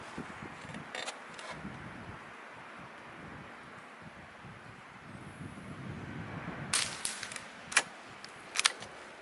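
Suppressed Ruger 10/22 bolt action rifle with a Gemtech Mist suppressor, firing outdoors in wind; a few sharp, quiet, muffled cracks spaced irregularly near the end, preceded by softer clicks over steady wind noise.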